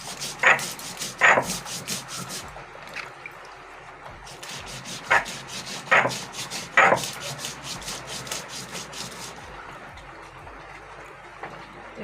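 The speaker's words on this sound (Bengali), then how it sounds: "পোস্তটা বাটা হচ্ছে।" Poppy seeds are ground into paste by hand on a stone, giving close, rhythmic scraping rubs in bursts with short gaps between strokes.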